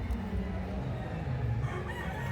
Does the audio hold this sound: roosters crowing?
yes